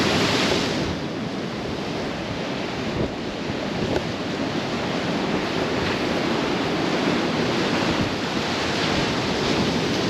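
Heavy sea surf pounding Corallia Beach in Paphos, a steady loud roar of breaking waves with wind buffeting the microphone throughout, no voices.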